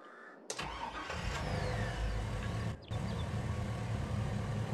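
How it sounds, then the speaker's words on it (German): A tractor engine in Landwirtschafts-Simulator 22 (Farming Simulator 22) cranks and catches, then settles into a steady rumbling idle, with a brief dropout partway through. "Motor starten."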